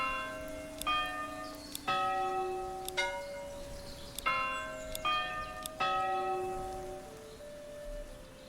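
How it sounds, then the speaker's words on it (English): A church bell tune from the medieval video game Manor Lords rings out in a sequence of clear, resonant strikes at an uneven melodic pace, each tone decaying and overlapping the next, alone without talk. "Wait, we can change the bell sound?"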